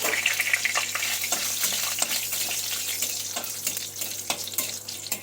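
Bay leaves and dried red chilies drop into hot oil and crackle in a lively, continuous sizzle with scattered sharp pops, heard up close without talking.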